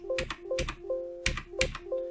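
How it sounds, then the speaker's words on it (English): Muffled, soft clicks of a mechanical keyboard switch fitted with an O-ring, pressed repeatedly in a steady rhythm, each keystroke a dull, cushioned tap up close, quieter and less sharp than an unmodified switch. "this is the same actuation force on a switch that's had a ring done on it."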